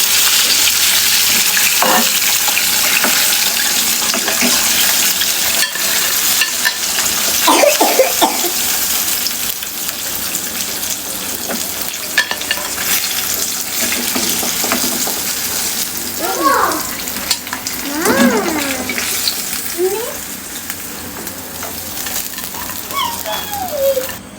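KFC-style chicken frying in oil, a loud continuous sizzle with stirring clinks close by, while voices talk intermittently over it.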